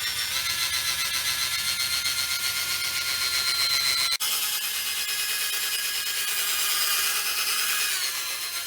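A handheld drill with a buffing pad runs steadily as it polishes compound across a car headlight, giving a continuous, close whirring rub with a brief dip midway. No one talks over it.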